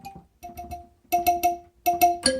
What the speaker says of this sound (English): in mallet we're going to look for pop tropical mallet